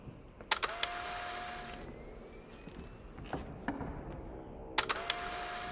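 Camera shutter clicks from the video game The Suicide of Rachel Foster: a quick pair of mechanical snaps near the start, a quieter stretch with faint clicks, then another sharp burst of snaps near the end.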